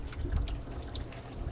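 Coolant drips and trickles from the thermostat housing of a 2015 Jeep Grand Cherokee, soft irregular splashes close by over a low background murmur.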